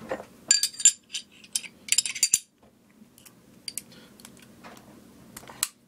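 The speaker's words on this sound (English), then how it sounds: "now to reassemble, first off I'm going to put the Glock together first" Light metallic clicks and clinks of a Glock pistol being put back together, coming in short, close bursts with brief pauses between them.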